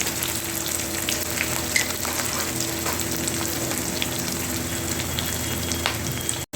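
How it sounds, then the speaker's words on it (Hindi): Onions frying for sambar in a home kitchen, a steady close sizzle with light crackles and occasional stirring, running continuously with no talk. "प्याज का ज़्यादा लाल होने तक नहीं भूनना है, खड़ा खड़ा कर रखना है।"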